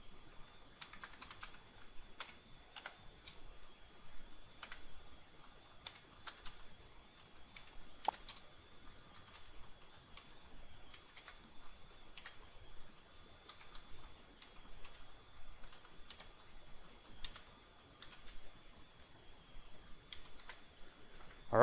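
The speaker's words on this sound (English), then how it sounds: "I'm gonna have to type it out here, so hang on a minute" A registration code is typed on a computer keyboard as sparse, irregular clicks that come in small clusters, faint and close, with a quiet background hum.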